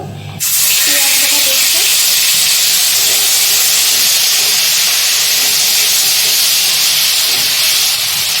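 Ginger and garlic paste dropped into hot oil left from frying fish, bursting into a loud, steady hiss and sizzle that starts abruptly and continues unbroken, close up with no speech over it.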